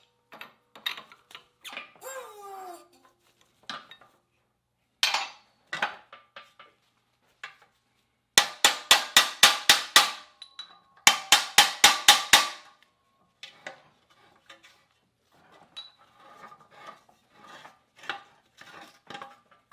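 A hammer strikes a badly rusted, seized Subaru wheel bearing hub, with loud metallic blows in scattered singles and two rapid bursts of about eight quick hits each, plus a few lighter taps and squeaks.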